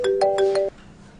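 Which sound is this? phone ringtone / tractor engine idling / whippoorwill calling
phone ringtone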